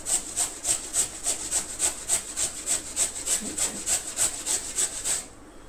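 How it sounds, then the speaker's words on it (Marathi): Cucumber is rubbed steadily against a grater for a Goan steamed rawa cake, about twenty even rasping strokes in quick regular rhythm, close and clear, stopping just before the end. "तुम्ही पळोवं शकता कशे तरेन हांव किसून घेता ते."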